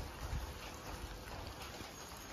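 Heavy rain falling steadily in the Konkan region, a soft continuous wash of drops with a faint low rumble, distant and even throughout.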